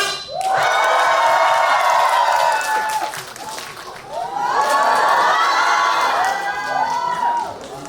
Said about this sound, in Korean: 박수와 함성 질러주시면